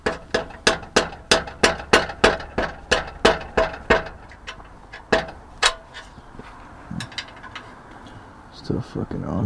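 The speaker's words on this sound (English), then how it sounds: "I feel less bad about just taking a hammer to the back of it" A hammer knocking at the back of a carbon exhaust tip on a BMW F80 M3: a quick, even run of about sixteen sharp metallic raps, then a few slower, scattered hits before a quiet stretch.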